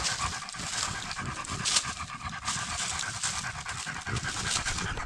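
Dogs pant steadily and rhythmically while running along a spring forest trail, the quick breaths close and continuous with no talking.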